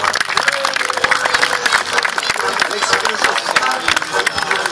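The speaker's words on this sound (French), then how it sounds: "On pourra applaudir Alexandre Vautour." An audience applauds a performer named Alexandre Vautour at a monster truck event, with dense sustained clapping mixed with crowd noise and scattered cheers running steadily throughout.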